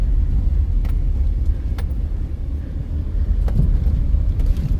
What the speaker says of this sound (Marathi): आता आम्ही पार्किंगला लावतोय गाडी,